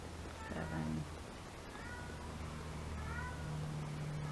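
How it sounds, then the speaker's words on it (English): A cat meows indoors, several faint, drawn-out meows heard at a distance over a quiet room hum, with one clearer cry near the start and softer ones later. "There's a cat."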